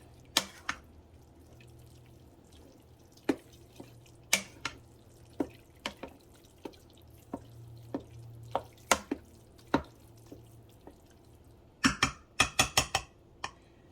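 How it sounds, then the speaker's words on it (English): Spaghetti and shredded Gouda cheese are stirred in a Ninja Foodi pot: faint, scattered taps and clicks of a utensil against the inner pot, ending in a quick cluster of knocks. "And I'm going to stir it again."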